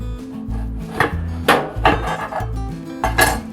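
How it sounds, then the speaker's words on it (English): A knife slices organic Brussels sprouts in half on a wooden board, giving several sharp, close chopping knocks at irregular intervals with scraping between them, and no voices. "now take our Brussels sprouts, organic, and we cut them in half"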